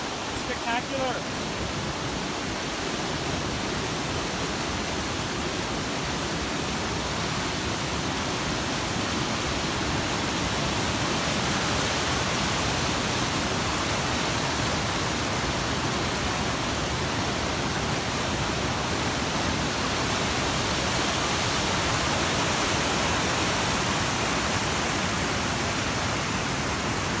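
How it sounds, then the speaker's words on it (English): A waterfall along a hiking trail in Canada gives off a steady, loud, broadband rushing roar that stays constant and unbroken throughout. "Let's go and take a look at the third waterfall."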